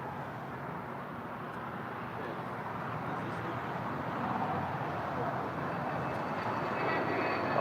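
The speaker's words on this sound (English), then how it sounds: "Qantas A330 heading to Brisbane, flight 56, now rolling down 25 right." A Qantas Airbus A330 on flight 56 to Brisbane rolls down runway 25 right at LAX. Its distant engine rumble is fairly faint at first and swells slowly as the takeoff roll builds.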